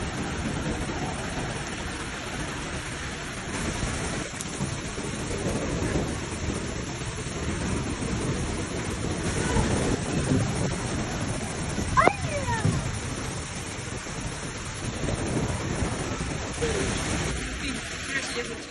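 Steady heavy rain from a thunderstorm hisses throughout in Tamarite de Litera, Huesca, Spain, with a low rumble underneath and a brief sharp crack near the middle; no voices stand out.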